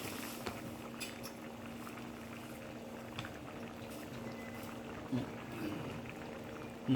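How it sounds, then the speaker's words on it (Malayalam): Chickpea curry (kadala curry) simmering in a pot, giving a soft, steady bubbling under a low hum, with a couple of brief clinks near the end. "നമ്മുടെ കടലക്കറിക്കൊക്കെ നല്ല തള വന്നു"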